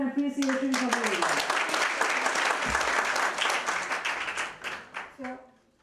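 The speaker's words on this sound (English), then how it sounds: "So a round of applause and appreciation for the lady" A workshop audience for women entrepreneurs breaks into applause: many hands clap in a dense, lively burst that tapers off toward the end, with a voice talking at the start and again as it fades.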